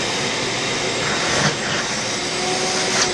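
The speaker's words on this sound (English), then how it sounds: "use a shop vac to get it all out of there" A shop vacuum roars steadily at close range, a constant broadband whoosh with slight shifts as it sucks dirt and debris out of the intake area of a Yamaha Super Tenere motorcycle.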